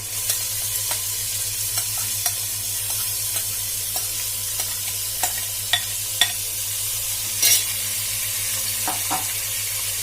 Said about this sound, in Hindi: अब प्याज को हम थोड़ा गहरा सुनहरा भूनेंगे